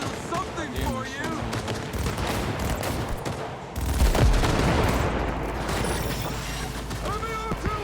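Heavy gunfire in a video game, with dense bursts of automatic fire and explosive booms that grow louder partway through and roll on continuously, loud and close.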